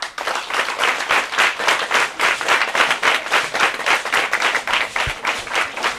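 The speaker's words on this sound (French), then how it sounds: "Monsieur Apollinaire Allah, que je vous demande d'applaudir très fort" At a school ceremony in Benin, an audience claps in a strong, rhythmic beat, the slaps coming in regular pulses at moderate distance and carrying steadily throughout.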